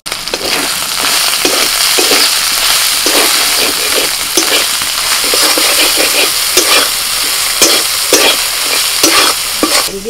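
Spice masala of salt, turmeric, cumin, coriander and chilli powder fries loudly in a pan while a spoon stirs it steadily, with a constant close sizzle and repeated scraping strokes throughout.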